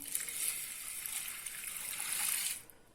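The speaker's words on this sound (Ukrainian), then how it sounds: "і заливаю водою" Spring water poured into a container holding about 200 grams of spelt grain, a steady close trickling gush lasting nearly three seconds before stopping abruptly, with no voices.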